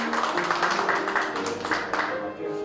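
A crowd at a church general assembly of a revival preachers' association applauds in a steady, dense wash of clapping that fills the hall for a few seconds, with voices mixed into it.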